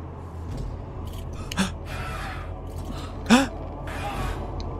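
A video game character from Sable gasps, with two short, sharp intakes of breath over a steady ambient bed.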